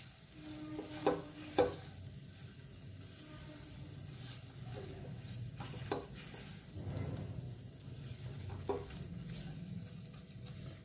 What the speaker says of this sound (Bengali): দিয়ে ভালো করে মশলাটাকে কষাতে হবে